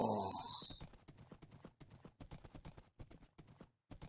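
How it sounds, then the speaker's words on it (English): Rapid rhythmic hoofbeats of a horse galloping in a Minecraft-style hard survival game, steady clip-clop thuds running through most of the stretch with a brief pause near the end, after an opening burst of game sound. "It's a good thing this horse is super fast."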